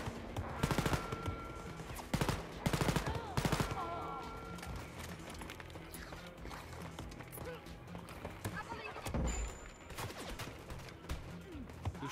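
Bursts of gunfire in Wolfenstein: Youngblood, sharp volleys clustered in the first few seconds, then scattered quieter shots and game noise, with a player's voice occasionally heard.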